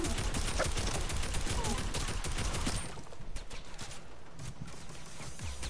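Dense, rapid gunfire from a battle royale video game, loud bursts crowding the first half and then continuing at a slightly lower level, with no voices.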